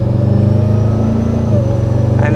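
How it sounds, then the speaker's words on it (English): A loud twin-charged Ram TRX truck engine drones steadily with a thin high whine riding above it, the supercharger whistling as the motor revs. "You've got the supercharger, got the whistles"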